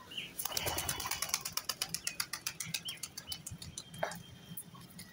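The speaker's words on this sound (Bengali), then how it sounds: "নেক্সট দেখাচ্ছি সবুজ ম্যান্টাস পায়রা।" A green mantis pigeon beats its wings in a rapid run of close flaps that rise and then fade, with a few faint chirps at the start and a single sharper flutter near the end.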